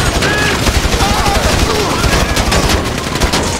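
Gunfire in a Grand Theft Auto 5 heist shootout: dense, continuous automatic weapon fire and overlapping shots, loud and sustained throughout, with shouting voices mixed into the din.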